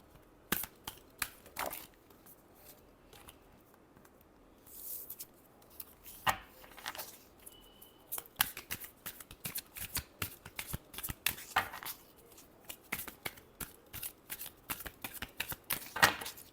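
Tarot cards being shuffled by hand at close range, a long run of crisp, papery riffles and slaps in quick irregular bursts with short pauses between them.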